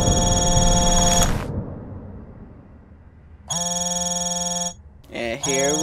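An old telephone in a video game rings in loud, sustained electronic bursts, separated by a quiet pause, with a voice reacting briefly near the end.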